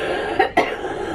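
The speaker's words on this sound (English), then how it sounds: "The coughing has started." A girl gives two quick, close coughs in a hospital setting before an upper endoscopy, the pair sharp and separated by a brief pause over a low room hum.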